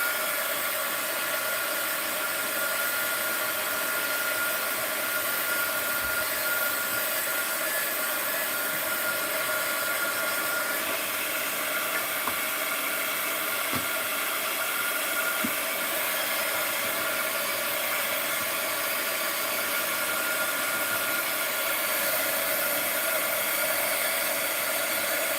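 A hair dryer or heat tool drying art journal and craft work, a loud, continuous steady whir with a hissing airflow that holds unbroken throughout, with only faint small clicks in the background.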